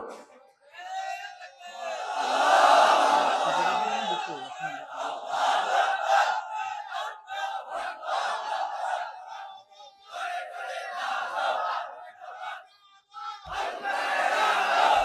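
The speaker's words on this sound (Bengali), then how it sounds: "চলুক না 5 মিনিট তাকবীর" A large crowd chants the takbir in unison during an outdoor religious gathering, loud rhythmic shouted phrases rising and falling in repeated waves, with brief gaps between calls.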